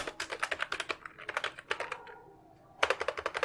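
Typing on a computer keyboard during a CorelDRAW design session, a quick run of close, crisp keystrokes in irregular bursts, a short pause, then another flurry of taps.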